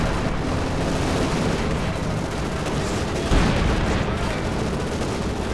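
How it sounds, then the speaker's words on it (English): Field guns and artillery booming in the World War II strategy game Company of Heroes 2, a dense, continuous barrage of rumbling gunfire and blasts with one sharper impact midway, under a commentator's voice. "Field guns opening up, and there go another hit from the Sturmpanzer IV, almost taking out that conscript squad."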